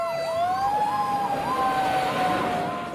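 A toy fire truck siren wails close and loud, its electronic tone sweeping up and down in a steady repeating cycle.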